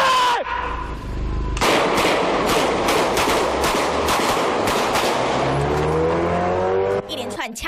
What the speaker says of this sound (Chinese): 枪声大作，把周围住在大楼的居民通通吵醒